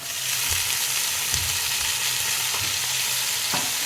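Potatoes and onions fry together in a pan, a loud steady sizzle with occasional low knocks of stirring throughout and no voices.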